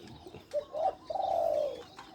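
A decoy dove calling at close range in the early morning, with a few short coos followed by one longer drawn-out coo.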